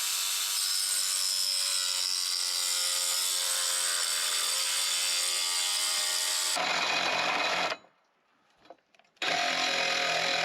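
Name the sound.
DeWalt jigsaw with metal blade cutting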